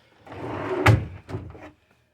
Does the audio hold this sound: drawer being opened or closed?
yes